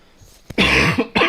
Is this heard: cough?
yes